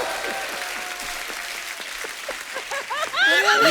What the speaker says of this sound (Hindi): क्या बात है, थार के लिए एक बार जोरदार ताली हो जाए।